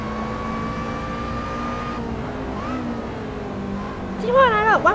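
Racing cars in the video game Assetto Corsa, a steady engine drone that shifts pitch as the car accelerates and downshifts, with a commentator talking over it near the end.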